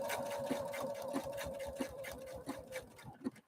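A Husqvarna Viking Opal 650 sewing machine stitching a decorative pattern, its motor humming steadily under a regular, close rhythm of needle strokes that slows near the end.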